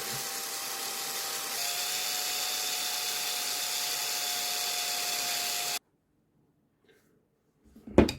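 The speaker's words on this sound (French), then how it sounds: "ça j'utilise une perceuse" An electric drill whirs steadily as it winds nylon fishing line back onto a reel spool, a continuous high whine that rises slightly partway through, then cuts off abruptly into silence before a brief handling clatter.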